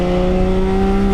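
600 hp 1JZ-swapped Lexus SC300 accelerating at half throttle, a loud, close, steady engine drone with strong harmonics that holds through the whole short burst.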